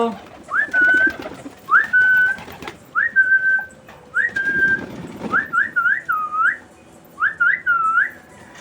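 Pet pigeons at home give a series of short whistled notes, then quicker rising and falling calls, with softer low murmurs mixed in between pauses.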